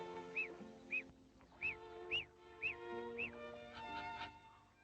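A lone duck raised in isolation from its own species quacks six times in a steady, evenly spaced rhythm. The calls are moderately loud and sit over a sustained harmonic musical backdrop.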